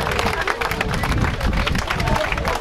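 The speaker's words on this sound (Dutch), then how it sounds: "Graag applaus" Crowd clapping and cheering at a graduation party for graduates in Almelo, loud and close with lively hubbub and babbling voices mixed into the steady applause.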